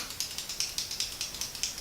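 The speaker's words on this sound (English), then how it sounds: "So we stop clicking the pen." A pen clicks repeatedly at a quick, fairly even rhythm, roughly ten sharp clicks in under two seconds, close and alone.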